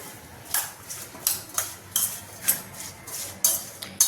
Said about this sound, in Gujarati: બધી જ ગરમરમાં હળદર અને મીઠું લાગી જવું જોઈએ એવી રીતે આપણે હલાવી લઈશું